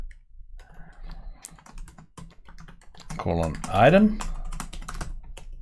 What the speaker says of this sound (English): I don't know what fingers I'm typing with today